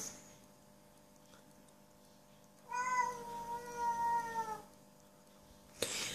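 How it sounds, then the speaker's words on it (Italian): A domestic cat meows in one drawn-out, wavering cry lasting over a second, close and clear against a quiet room, followed by a brief sharp noise at the end. "Ma quando miagolano così i gatti, cosa vogliono?"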